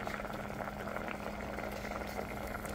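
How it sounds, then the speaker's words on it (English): Galunggong fish paksiw simmering in a casserole gives a steady, faint bubbling hiss that stays even throughout with no break. "So actually, the galunggong is now being cooked."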